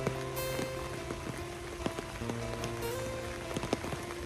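Rain falls steadily on a village, a dense even patter with scattered louder drips on nearby surfaces, close and continuous throughout with no voices.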